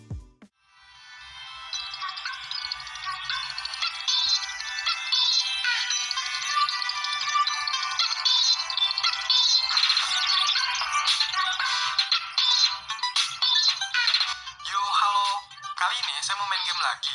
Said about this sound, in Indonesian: untuk speakernya, di handphone sekecil ini masih tergolong kenceng ya, walaupun kualitas suaranya standar banget lah.